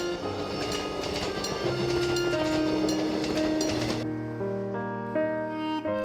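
A Gyeongjeon Line train runs on its rails, steady clickety-clack and rumble of the carriages heard close, with a tonal horn-like hum emerging midway and continuing after the clatter thins.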